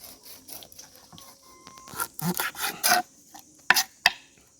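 A knife cuts the fins off a fish during skinning, with short rasping and scraping strokes in bursts that grow louder toward the middle, then a few sharp scrapes near the end.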